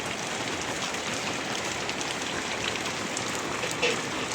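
Steady rain pours down on a wet morning, a dense even hiss of drops striking surfaces at close range, constant in loudness with no voices.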